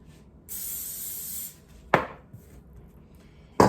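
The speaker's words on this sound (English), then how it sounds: "get a bowl, spray it with pan spray." A steady hiss of cooking spray sprayed into a bowl lasting about a second, followed by two sharp knocks, like a can or bowl set down on a counter.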